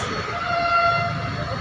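A metro train rumbles steadily and sounds a drawn-out tonal horn as it arrives on a trial run of a new line in Bengaluru, loud and close.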